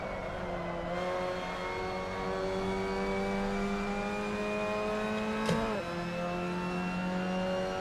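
A Mazda MX-5 Cup race car lapping Martinsville in a racing game, its engine whining steadily at high revs with rising pitch, then a brief sharp shift or jolt before settling, loud and close with no talking.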